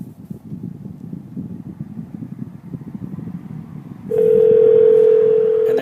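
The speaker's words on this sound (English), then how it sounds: "I'm gonna dial." Phone dialing over Bluetooth inside a 2015 Ford Fusion SE: a low cabin and road rumble runs for about four seconds, then a loud, steady tone sounds through the car speakers until the end.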